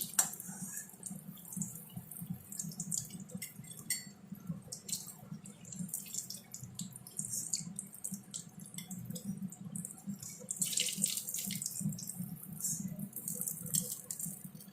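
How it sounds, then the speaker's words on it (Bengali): Jackfruit chops sizzle steadily in hot frying oil, a constant soft crackle and hiss with occasional brighter spurts, close and fairly quiet with no talk. "এইভাবে সবকটা আমি ভেজে নেব।"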